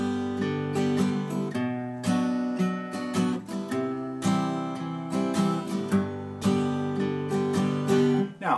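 Acoustic guitar strummed in a steady pattern, a low bass note picked on the first and third beats followed by quick chord strums, played close and clear with no talking.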